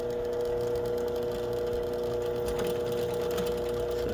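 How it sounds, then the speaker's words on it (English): A small 10 inch drill press cutting into an aluminum jig mold, giving a steady whirring motor hum with a faint grinding edge, moderately quiet and continuous, with no talking. "It walks a little bit in this little 10 inch drill press,"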